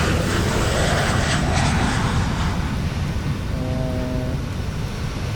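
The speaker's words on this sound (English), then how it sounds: "Sounded like a plane just flew by, but there is no planes flying by." Airplane passing overhead in Microsoft Flight Simulator 2020 during a PMDG 737-900ER flight from Amarillo, a loud, broad roar that swells then slowly eases over several seconds, with a faint tonal hum near the end.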